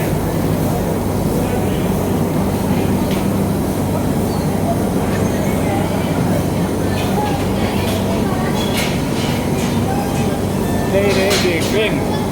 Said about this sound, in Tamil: ஒரு ரோலர் மாதிரி ஒன்று அரைக்குது.